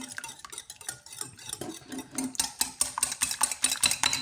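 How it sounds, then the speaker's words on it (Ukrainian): A spoon scrapes and clinks steadily against a bowl while stirring a thick mixture, with quick repeated strokes getting louder and brisker, no voices. "Тепер все перемішуємо."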